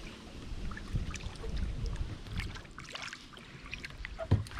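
A canoe or kayak paddled across open water on a calm day makes soft, irregular splashes and drips, moderately quiet, with light wind noise and no talking.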